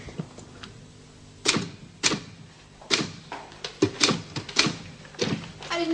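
Keys striking on a typewriter, a set of sharp, loud mechanical clacks coming in irregular, hesitant bursts after a quiet start, close by with no talking.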